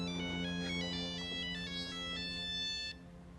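An incoming call rings on a cellphone left behind: a bright repeating melodic ringtone plays clearly for about three seconds and then stops, with no talking.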